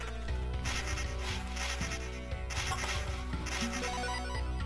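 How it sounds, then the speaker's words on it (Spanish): Insect-like buzzing of mosquito enemies in the Loop Hero video game drones steadily and loudly, layered over continuous game music with recurring rhythmic swells. "Doble mosquito."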